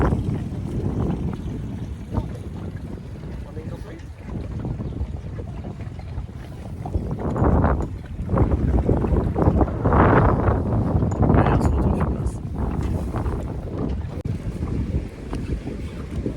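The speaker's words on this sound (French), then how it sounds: "il y a le vent marin, donc ça arrive comme ça" Strong sea wind buffets the microphone in gusts, with rushing water and a boat moving across waves underneath, loud and continuous.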